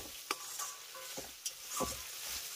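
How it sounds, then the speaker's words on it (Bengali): Masala with cashew-poppy paste stirred in a pan for a vegetarian soya chunk and potato dish, a soft sizzle under intermittent spatula scrapes and taps, quiet and close. "এইভাবে কিন্তু মশলাটিকে একটু ছেড়ে ছেড়ে নেড়ে চেড়ে নিতে হবে"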